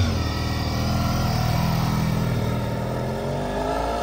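A Honda VFR750R RC30 motorcycle's engine runs at a steady, close idle, a loud even rumble with a throbbing pulse and no voices.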